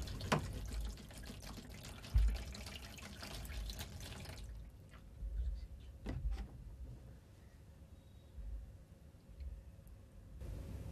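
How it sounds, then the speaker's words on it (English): Cold water pours over a tightly capped bottle that had held boiling water, giving a soft, continuous splashing and trickling like a running tap, faint and close, with small knocks and drips. "Now pour cold water over the bottle and watch it get crushed."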